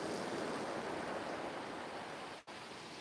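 Ocean waves break on a beach beside a fishing spot, heard as a steady, loud, broadband wash of surf that briefly dips near the end before rolling on. No one speaks.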